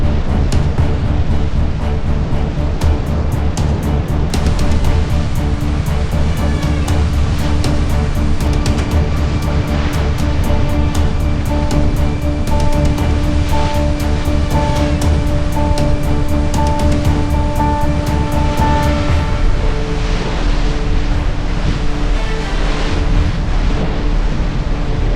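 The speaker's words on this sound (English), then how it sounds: "when the waves wash over like this" Ocean waves crash and wash over a racing sailboat during the 2025 Coastal Cup offshore race, a loud, continuous roar of surf and rushing water that dominates throughout and eases slightly toward the end.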